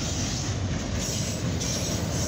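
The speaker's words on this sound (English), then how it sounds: "We got a CSX northbound auto rack train here on track one" A CSX northbound freight train of graffiti-covered auto rack cars rolls past on track one, a steady close rumble with clickety-clack of wheels over rail joints and no voices.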